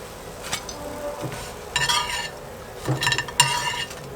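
Milk powder drop scones are set onto a plate, giving a few short clinks and scrapes of utensil against dishware in separate bursts with quiet gaps between.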